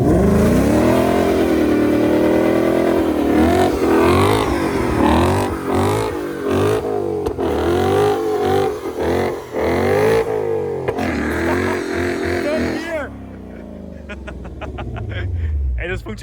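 A Ford Mustang Dark Horse holds a line-lock burnout, its engine revving hard and loud as the rear tires spin, the roar rising and falling in surges before easing off near the end.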